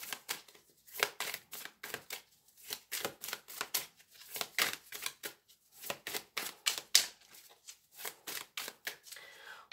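Tarot cards being handled and laid down on a table: a rapid series of crisp, close paper slaps and flicks in uneven clusters, with short quiet gaps between.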